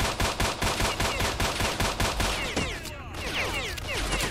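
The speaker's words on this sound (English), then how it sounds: "They are just like shooting the shit out of me though." AK rifle fire in the survival shooter game STALKER: Shadow of Chernobyl, a rapid even string of close, loud shots for over two seconds, then a more scattered, distant crackle of fire.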